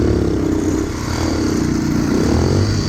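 A faltering motorcycle, broken down on a Peru road run, roars with a loud, steady, rough engine drone that holds close and rises slightly as it revs, with no talk.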